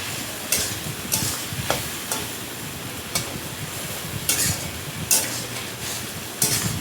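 Spice paste with two bay leaves fries and is stirred in a pan, a steady close sizzle broken by repeated scraping strokes of the spoon at irregular intervals, with no voices.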